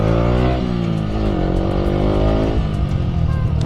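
Yamaha YZF R125 motorcycle with a Blackwidow exhaust accelerating hard, a loud, close engine note climbing steadily through the gears, dipping briefly between shifts, with no talk over it.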